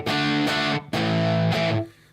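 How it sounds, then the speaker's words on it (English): Electric guitar driven through an EL34 tube amp, thick harmonic distortion ringing out in two sustained chord strums with a short gap, loud and close. "it's good EL34 distortion"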